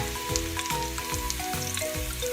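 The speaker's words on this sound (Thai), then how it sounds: "เราก็ใส่น้ำมันไปหน่อยนะคะ เสร็จแล้วเราก็ใส่ กระเทียมค่ะ กระเทียมเริ่มเหลืองแล้วนะคะ" Garlic fries in hot oil for Thai noodles with pork in gravy sauce: a loud, close, continuous sizzle with regular stirring scrapes about every half second.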